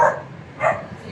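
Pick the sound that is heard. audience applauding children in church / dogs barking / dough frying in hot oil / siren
dogs barking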